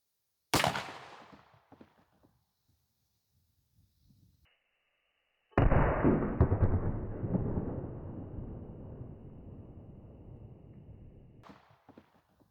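A 12 gauge Barnes VOR-TX 437 grain copper sabot slug fires into gel blocks outdoors, one sharp loud report that decays into a long rumbling echo, preceded by an earlier sharp crack and followed by a faint click.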